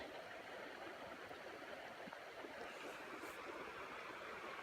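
Flowing water of the Owyhee River in Oregon on an evening outdoors, a steady broad rushing wash that stays even throughout, with no voices.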